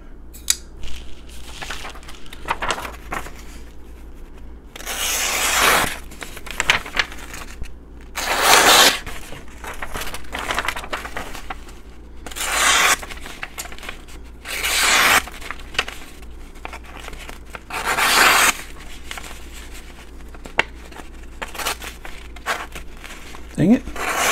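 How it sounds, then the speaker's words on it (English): Black Fox Echo 1 knife slicing through paper: several short, crisp rasping swipes spaced a few seconds apart, close and fairly loud, with quieter handling noise between them. "Forgot to do a paper cut test"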